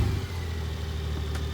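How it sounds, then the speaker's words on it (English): Exhaust of a 2002 Honda Gold Wing 1800 touring motorcycle, a steady, mellow low rumble at idle, heard up close for a brief moment with no talking. "Nice mellow exhaust."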